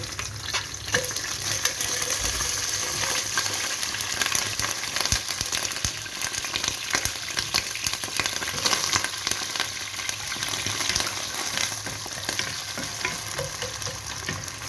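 Loud, steady sizzling of vegetables frying in a hot pan, with a continuous crackling hiss throughout and no voices.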